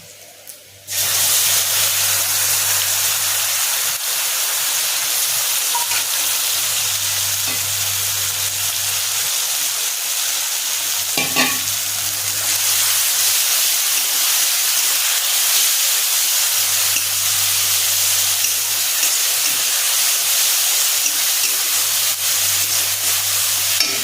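Mustard paste sizzles in a pan of fried onions while a spicy Bengali rupchand fish curry is being cooked, a steady close hiss with a low rhythmic bubbling pulse and a brief clatter of stirring near the middle.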